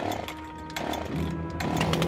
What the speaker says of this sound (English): Put down your chainsaw!